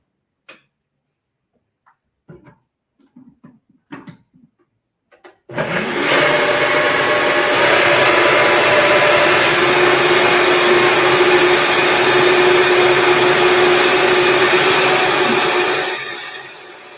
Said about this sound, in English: let's do another blend.